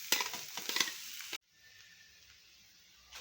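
Mashed potato for batata vada is tipped into a pan with turmeric and coriander and stirred, giving about a second and a half of close, busy scraping and stirring, then a quiet steady hiss.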